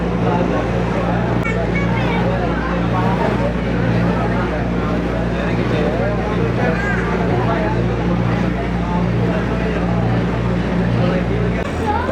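A loud, steady engine drones with a constant low hum, a Kochi water metro ferry boat under way from Menaka jetty toward Fort Kochi, with a noisy mix of activity layered over it.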